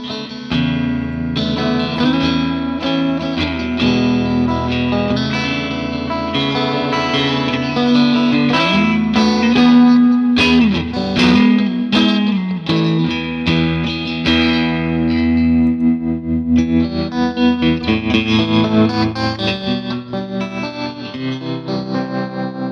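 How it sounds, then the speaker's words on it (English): An electric guitar plays chords and runs through an Albion GS Series amp with pulsing tremolo and washy reverb, the effect swelling and trailing between phrases. "And then we've got tremolo and reverb, and also a foot switchable effects loop."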